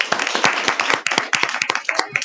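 At a school board meeting, a small audience claps for students, with uneven individual hand claps standing out sharply and close, some voices audible underneath.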